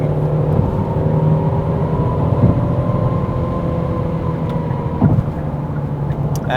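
A 2020 Genesis G70 with a 3.3-liter twin-turbo gasoline engine accelerating, heard from inside as a steady, loud engine drone and road rumble that holds throughout, with slight tonal shifts as it pulls.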